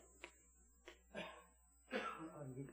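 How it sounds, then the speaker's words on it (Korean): A few quiet, separate coughs, brief throaty bursts spaced out, faint and close, with no talking. "기침이 나네"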